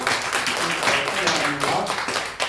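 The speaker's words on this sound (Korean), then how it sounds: "박수로 환영해 주시기 바랍니다." A church congregation at a New Year's Day Sunday service applauding in welcome, dense continuous clapping that fills the room, with some voices mixed in.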